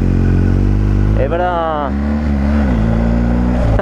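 A BMW 1250 GS motorcycle engine starts and revs, a loud close idle rumble rising in a brief rev with a climbing whine, then settling back, with someone speaking briefly over it.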